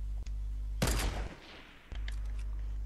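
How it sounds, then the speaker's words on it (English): Burst of rapid gunfire in a Fortnite match, one loud dense volley of shots lasting about a second before fading, with a steady low hum underneath. "He's shooting at me, Mike."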